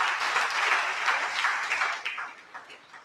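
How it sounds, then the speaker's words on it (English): Crowd applause for local officials at a community meeting, a dense burst of clapping that holds steady and then thins out and fades toward the end, with no speech over it. "just want to give those guys a big round of applause,"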